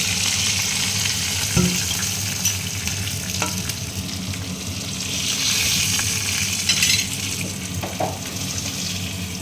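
Pieces of tandoori chicken sizzle and fry steadily in an oiled pan, a close, continuous crackle with a few soft knocks as they are turned.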